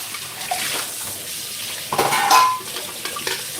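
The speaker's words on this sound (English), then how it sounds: "Need to wash the scrubber as well." A kitchen scrubber rinsed under a running tap, with a steady hiss of water and brief clatters of dishes and utensils partway through, close and fairly quiet.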